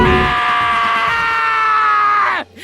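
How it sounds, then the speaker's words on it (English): A long, loud, sustained scream in the Danganronpa: Trigger Happy Havoc video game, holding steady for over two seconds before cutting off abruptly, with no talking over it. "Hey, I heard screaming."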